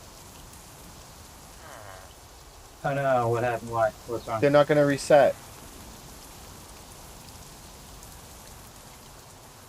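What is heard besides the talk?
rain falling in Minecraft, a video game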